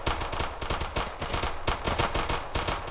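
Enemy gunfire in a video game: rapid bursts of automatic shots, close and loud, crackling in an uneven stream for several seconds with no voices.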